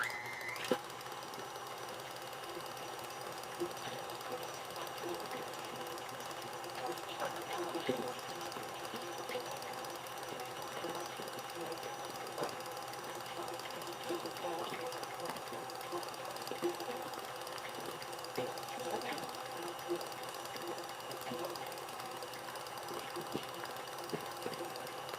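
An electric mixer beats chocolate fudge frosting in a bowl, a steady whirring hum that runs unbroken throughout at moderate, close level.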